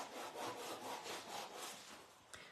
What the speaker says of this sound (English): a nail file, just by sanding the side of our chipboard backwards and forwards like this